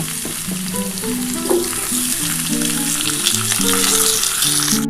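Eggplant and eggs sizzle and crackle steadily in hot oil in a pan, a close, dense frying hiss with light stirring throughout and no talk.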